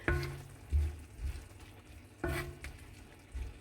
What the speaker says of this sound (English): when you are stir frying the mushrooms, the tomatoes, the onions, and the spring onions